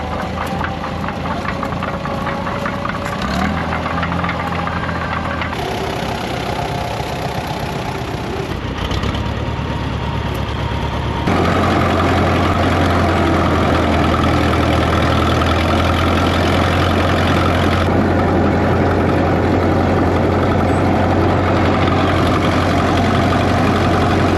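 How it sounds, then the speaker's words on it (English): A Caterpillar tricycle tractor engine idles at an outdoor farm show, a loud, steady low rumble with a knocking pulse that shifts in tone partway through. "7 implements to go with that little tractor."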